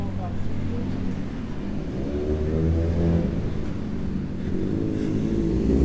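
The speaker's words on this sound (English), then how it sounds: "Got a motorcycle making some noise." A motorcycle engine revs on a town main street, a steady loud low rumble with rising and falling harmonics throughout, heard up close against street ambience.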